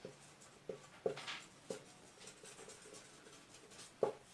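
Faint pen or pencil strokes on paper as a number is written out in words, a few soft scratches and taps spread sparsely over a quiet room.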